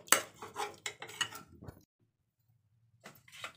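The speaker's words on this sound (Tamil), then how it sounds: "கரண்டிலேயே மசிக்க வச்சிடலாம்." A metal ladle clinks and scrapes against a pot while mashing boiled potatoes, in a quick run of knocks, then goes quiet before a faint scrape returns at the end.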